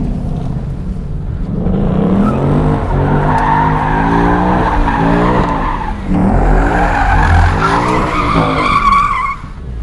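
A Ford Mustang V8 drifts with its tires skidding in a loud, sustained squeal over a rising and falling engine roar. The sound dips briefly midway, then swells again, close and continuous throughout.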